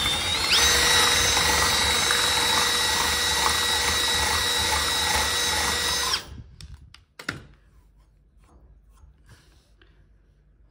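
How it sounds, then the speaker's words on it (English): A power drill runs in forward and reverse, whining steadily at high speed for several seconds, then cuts off, followed by a few clicks and quiet handling noises. "I have to basically wiggle it round, send the drilling both forward and reverse"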